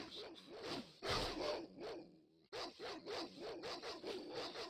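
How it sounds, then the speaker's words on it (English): Enemy dogs attack in the fantasy role-playing game Baldur's Gate, a run of rough, rasping snarls and barks repeating in quick bursts close up, broken by a short silence partway through. "Oh, some dogs."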